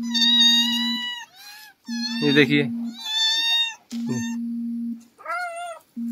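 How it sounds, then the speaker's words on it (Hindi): Small kittens meowing repeatedly in high, drawn-out cries at close range, several calls in a row, while someone talks over them amid a steady low hum. "ये हमने अभी बिल्ली का बच्चा पकड़ा है"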